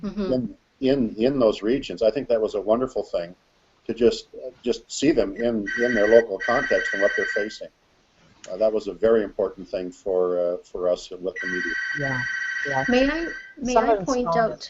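A mobile phone rings in repeated electronic bursts partway through, sounding under steady conversation between people talking close to the microphone.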